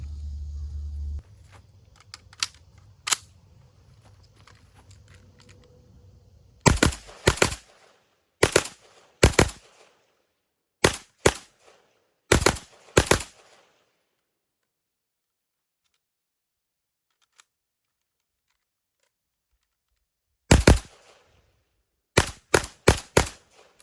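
Sharp gunshots from a Zenith ZF-5 with a red dot sight at about 15 yards, fired singly and in quick clusters with pauses between, loud and close with a brief low rumble at the start.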